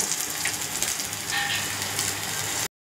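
Pieces of surmai fish frying in a pan, a dense, loud, continuous sizzling hiss with faint crackles, heard close up and without voices.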